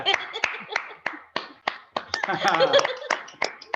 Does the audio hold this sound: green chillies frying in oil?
no